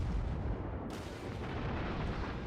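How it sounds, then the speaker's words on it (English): Naval guns boom as a warship lobs shells at a damaged enemy cruiser in the World of Warships game, giving a loud, dense, rumbling blast that fills the short stretch with no talk over it. "We managed to lob some shells over."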